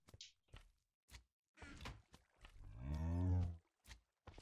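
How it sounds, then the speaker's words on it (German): A cow in Minecraft gives a long, low, loud moo near the end, alone among a few short thumps and knocks. "Ja, schon wieder eine Kuh."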